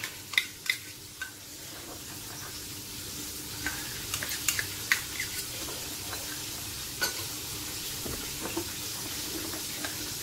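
A spoon stirs a corn syrup and sugar sauce mixture in a pan, giving soft scraping clicks and light taps over a steady sizzling hiss, with no talking.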